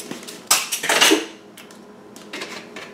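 Metal cutlery rattles and clinks against dishes in a kitchen during a search for teaspoons, with a loud burst of clattering followed by quieter scattered clinks and no speech.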